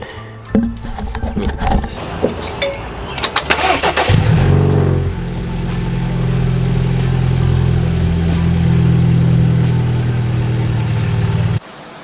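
A BMW F31 wagon engine cranks and catches after a few clicks and rustles, then settles into a steady, loud idle rumble for several seconds before cutting off abruptly near the end.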